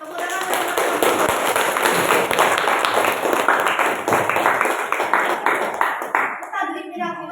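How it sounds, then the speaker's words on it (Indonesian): A classroom of people claps for students, a dense burst of applause lasting about six seconds and then fading away, with voices audible as it ends. "tepuk tangan untuk mereka"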